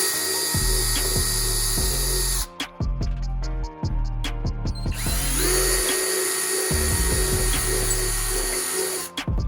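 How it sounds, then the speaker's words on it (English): A power drill with a 9/64 bit bores holes in carbon fiber, loud whirring bursts broken by brief pauses and restarts, with a rising spin-up whine midway, no talking. "So I'm using a 9/64 drill bit."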